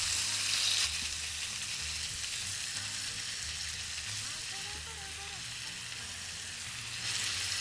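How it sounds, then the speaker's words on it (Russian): Meat sizzles and fries in a pan for keto plov, a steady broadband hiss with some stirring, while a person talks over it. "Мясо обжарим буквально пару минуточек."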